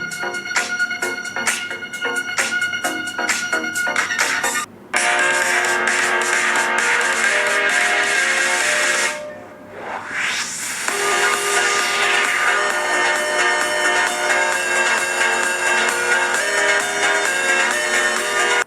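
A ringtone melody played loud through the dual Dolby Atmos speakers of a realme GT Neo 2 5G smartphone, dense tonal music with a short break and a rising sweep partway through.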